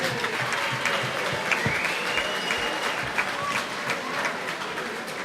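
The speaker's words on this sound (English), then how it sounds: "One more time, a round of applause please for both fighters." Arena crowd applauding both boxers after an eight-round professional fight: a fairly distant, steady roar of clapping with a few whoops and cheers mixed in, sustained for several seconds.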